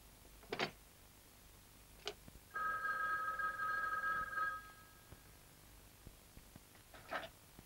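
An old telephone bell rings indoors in a quiet room, a single sustained ring of about two seconds framed by faint knocks and small bumps, with no talking.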